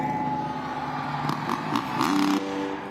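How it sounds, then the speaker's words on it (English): A motocross motorcycle engine revs in a few sharp bursts at a Monster Jam arena event, its pitch climbing and falling over a steady idle and a noisy crowd. "revving up that engine for you"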